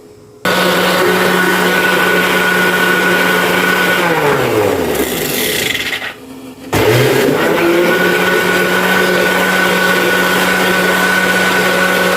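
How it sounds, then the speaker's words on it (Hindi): A blender grinds a mango milkshake with sugar and ice, whirring loud and close; the motor winds down and stops briefly, then starts again and keeps a steady grinding roar. "अच्छी तरह इसको हमने ग्राइंड कर लिया है"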